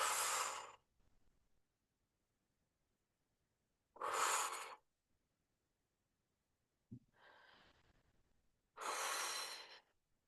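Slow, deep breaths during a pilates stretch, three long airy exhalations spaced several seconds apart with a softer inhale between, close and clear against silence.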